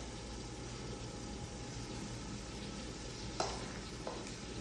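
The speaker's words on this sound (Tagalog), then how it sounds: "at nilagay ko na itong 1/4 ng butter" Butter sizzles in a hot pan alongside vegetables, a steady dense crackle with a low hum underneath and a couple of sharp clinks of a utensil near the end, no voices.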